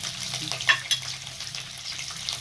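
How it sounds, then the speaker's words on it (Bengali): Cauliflower, carrot and green peas frying together in a pan, a soft sizzle with a couple of brief clinks from a spoon, fairly quiet and without talk. "ফুলকপি আর গাজরটা ফ্রাই হতে হতে আমি দিয়ে দিলাম মটরশুঁটিগুলো"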